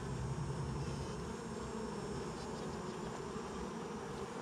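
Honeybees buzz steadily in an open emergency-split hive, a dense close hum filling the whole stretch with no pauses; queen piping is not distinctly picked out in the buzz.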